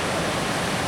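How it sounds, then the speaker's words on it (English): Broadband roar of ocean surf at Hanakapiai Beach on Kauai's Napali Coast, a steady, loud wash of heavy waves with no distinct breaks, heard alone. "Serious waves out there."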